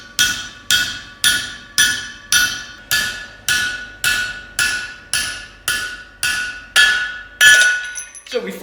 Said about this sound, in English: Okay, let's drift this out.